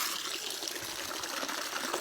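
Water running from a tap onto a washing stone, a steady broadband splashing trickle that holds even and fairly loud throughout, with no voices.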